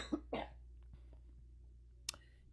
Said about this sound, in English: This cough is absolutely annoying